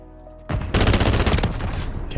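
Rapid automatic fire from an FFAR rifle in a first-person shooter video game, a short loud burst of closely spaced shots that kicks in abruptly after a quiet moment and keeps going.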